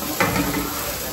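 Sabudana vada frying in hot oil: a short burst of steady, close sizzling hiss with a slight bubbling texture and no voices.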